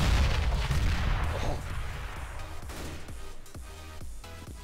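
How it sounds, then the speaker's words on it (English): A CS:GO grenade detonates with a loud, booming blast that rolls and decays slowly, followed by a few scattered sharp gunshot cracks further off. "Grenade."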